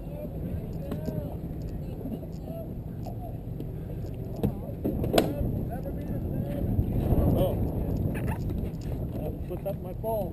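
A small boat's engine runs with a low, continuous rumble out on open water, with wind buffeting the microphone and people talking nearby over the motor.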